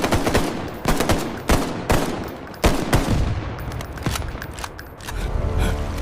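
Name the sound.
gunfire and shelling sound effect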